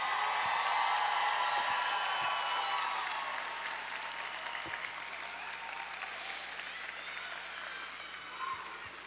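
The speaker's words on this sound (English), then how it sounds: "Let's give one more round of applause to all of our graduates." Large audience applauding graduates at a college commencement ceremony, a dense steady wash of clapping with scattered cheers that slowly thins and fades across the span, heard from within a big crowd.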